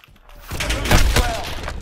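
A burst of rapid gunfire crackles through a video game firefight, dense and loud from about halfway in, with a sharp peak near the middle and a sustained noisy tail.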